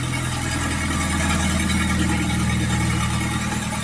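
An Orion 404 mini tractor engine runs steadily at a low, throbbing idle, continuous and fairly loud with no voices.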